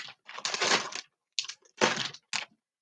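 Scissors cutting through fabric and plastic bagging while working on a quilt: short bursts of crisp snipping and crinkling, close and dry, separated by brief silences, with no talk.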